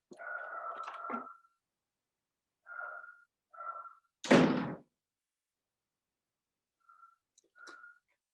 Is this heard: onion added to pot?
no